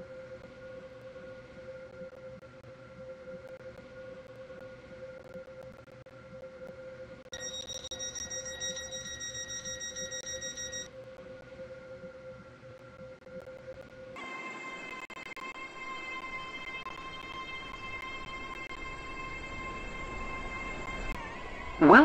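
A Class 801 train in the Stepford County Railway video game runs with a steady electric motor hum and shifting whine tones, joined by sustained tonal chimes and a brief louder burst at the end.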